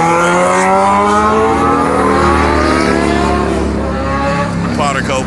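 A 2017 BMW M3 revs loudly and up close, its engine note climbing and holding steady, then sweeping upward near the end.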